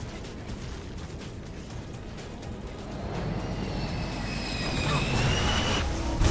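A rising roar of incoming aircraft in the video game Marvel Ultimate Alliance 2, growing louder and nearer over a dense rumble, with a thin whine sweeping above it.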